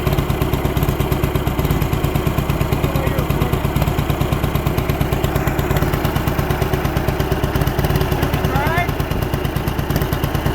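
An old tractor engine, abandoned for 30 years, runs hard and loud with a rapid, steady chugging clatter throughout; its carburetor is spitting flames out the back.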